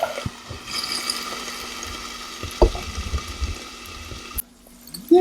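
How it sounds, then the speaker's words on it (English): A little water splashes into a hot pan where cheese is melting on turkey for a sandwich, giving a steady steamy hiss that cuts off sharply when the lid goes on, with no talking. "Get you a lid with just a little splash of water."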